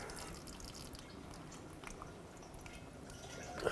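Transmission fluid drains from the oil pan of a 2006-2011 Chevrolet HHR in a steady, faint trickle and drip, with a soft clunk near the end.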